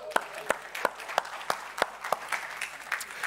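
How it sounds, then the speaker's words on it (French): Sparse, fairly quiet clapping at a church sermon gathering, sharp separate claps landing at a steady rhythm of about three per second, with faint room murmur underneath. "On peut applaudir Steven?"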